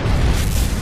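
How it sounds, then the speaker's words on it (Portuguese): A supernova explosion sound effect for a space documentary about nebulae, a brief, loud, deep booming rumble that fills the whole moment. "Mas talvez a explosão de uma supernova."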